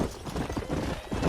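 Horse hooves clip-clopping steadily in Red Dead Redemption, a quick continuous rhythm of hoofbeats over a busy background of game sound, close and moderately loud throughout.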